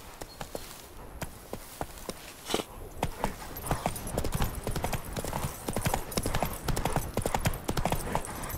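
Horse hooves galloping in The Witcher 3, a steady quick clip-clop of hoofbeats that grows louder and denser across the clip, with an occasional faint whinny.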